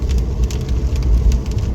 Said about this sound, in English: Can you hear it hitting the windscreen? It's quite hard.